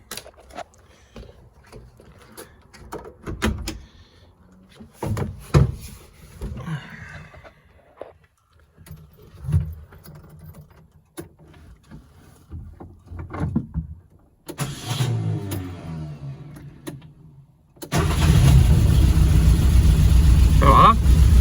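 Renault 4 with a Zenith 28IF carburettor being started after a carburettor overhaul, with scattered clicks and cranking attempts before the engine catches near the end and settles into a loud, steady run.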